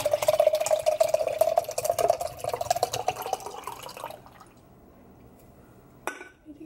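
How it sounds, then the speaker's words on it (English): Coffee pours steadily into a grande drink over flavored syrup pumps, a continuous liquid stream with a rising fill pitch for about four seconds, then quiet with a brief clatter near the end. "And then I just pour my coffee in."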